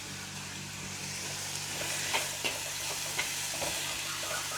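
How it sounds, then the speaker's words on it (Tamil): Garlic frying in a pan with a steady sizzle and hiss, a few soft clicks of a wooden spoon stirring through it, close and fairly quiet with no talking. "அந்த பூண்டு இதோட வெள்ளை புண்டா. சேர்த்து நன்றாக கிளறவும்."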